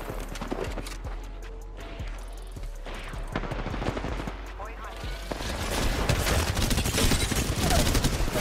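Rapid gunfire in an Apex Legends ranked match, bursts of automatic shots and clattering impacts over a busy mix, growing denser and louder toward the end as a voice talks throughout.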